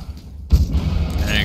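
A single loud sniper rifle shot rings out in CS:GO, a sharp boom with a rumbling tail amid game noise.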